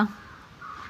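A single short crow caw rings out at the start, then fades into quiet background.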